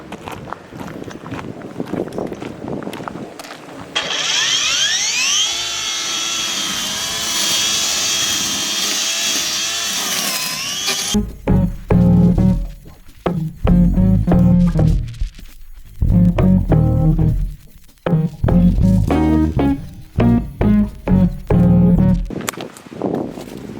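An ES BC54S cordless grass trimmer whines at high speed for several seconds, then cuts in loud bursts of thrashing line against grass, stopping and starting repeatedly.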